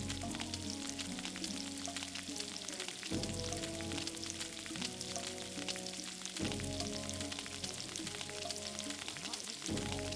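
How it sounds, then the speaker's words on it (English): Meat sizzles steadily in the video game Gothic, a faint continuous frying crackle with soft rhythmic tonal cues repeating every few seconds and no voices. "Intense meat frying action."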